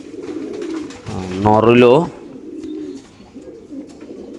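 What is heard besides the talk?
pigeons cooing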